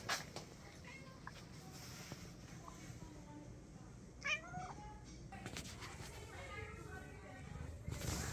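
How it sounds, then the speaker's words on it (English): Several adoptable cats at an animal shelter meow at intervals over a steady background hum, some calls short and others drawn out, with a louder yowl midway. "You could hear the meows and the purrs."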